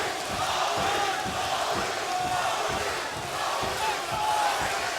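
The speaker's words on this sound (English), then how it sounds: "And they're chanting Maurice." A packed arena crowd at the 1997 UFC 14 heavyweight championship fight chants a fighter's name in a steady rhythmic roar that continues through the whole stretch.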